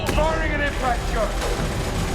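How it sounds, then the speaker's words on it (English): A Mass Effect 2 impact shot fires as a loud, close burst of gunfire followed by booming rumble, with a voice heard over it. "Firing an impact shot."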